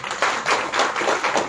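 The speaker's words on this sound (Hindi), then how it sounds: "आपके लिए एक बार जोरदार तालियां।" A burst of applause from a group, dense overlapping claps sustained for the whole moment at a steady, lively level.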